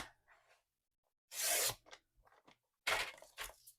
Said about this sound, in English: So I will cut the straight edge on my trimmer, cut it down